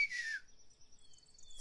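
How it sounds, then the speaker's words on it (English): A character whistles in The Longest Journey video game, one short clear note that glides downward and then holds a thin tone. It sounds close and alone. "Can you whistle? Like this?"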